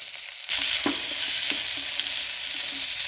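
Tempering in coconut oil with mustard seeds, chana dal, curry leaves, chilli and onion, starting with a sudden loud sizzle that settles into a steady hiss with small pops and stirring clinks.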